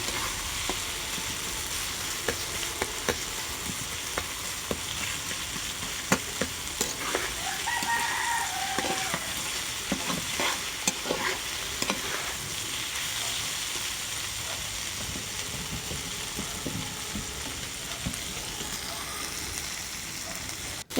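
Flat beans (shim) frying in a pan and being stirred, a soft steady sizzle with scattered light scraping clicks throughout, faint and continuous, with a rooster crowing briefly in the background midway.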